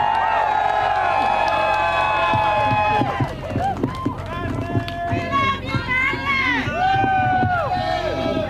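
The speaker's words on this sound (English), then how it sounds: "Big round of applause for Madeline Beckett." A crowd at a People's State of the Union gathering cheers and whoops loudly for speaker Madeline Beckett, with shouting voices and rising, sustained calls filling the space close by.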